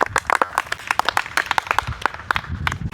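Audience clapping for a young volunteer on stage at an MLM roast show, a dense burst of many hands applauding steadily for a few seconds.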